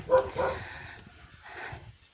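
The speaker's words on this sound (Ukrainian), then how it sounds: "Що там ці пси гавкають?" Dogs bark somewhere outdoors, two quick barks near the start and another later, fairly muffled and distant, with faint background talk between them.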